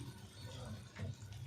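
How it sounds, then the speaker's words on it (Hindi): Water added to a pot of spiced daliya khichdi with salt, crushed red chilli and turmeric, a short soft pour lasting about a second and a half under low kitchen background noise. "थोड़ा सा पानी ऐड कर देते हैं"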